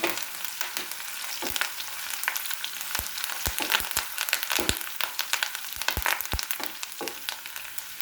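Green chillies and curry leaves fry in hot oil for a mango and carrot pickle, giving a steady, close crackling sizzle with sharp pops and spatters scattered throughout, no voices.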